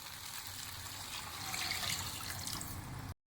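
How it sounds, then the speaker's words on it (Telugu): Water pours steadily into a pot of rice for egg biryani, a continuous close rushing splash lasting about three seconds before it stops abruptly. "2 లోటాలు వాటర్ వేసుకుంటున్నాను"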